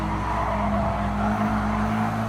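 A car in the GT Sport racing game, driver letting off the throttle: a loud, steady engine drone with a sustained tone and slight low-end dips, no voices.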